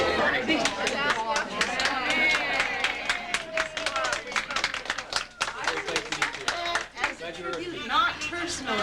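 Scattered clapping rises from an audience, sharp irregular hand claps mixed with crowd chatter, fairly close and loud, with voices talking throughout.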